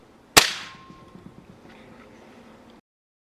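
A single sharp crack of a Winchester airgun pellet being fired through a chronograph, close and loud, then fading into faint clicks and room noise.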